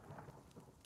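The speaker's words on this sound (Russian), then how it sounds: "Дождь." Steady rain patters softly in the video game The Forest, with a faint low rumble beneath; brief and quiet, no voices.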